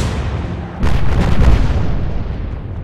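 A naval gun fires in the naval strategy game Atlantic Fleet, one heavy boom that bursts out and rolls into a long fading rumble, with no talk over it.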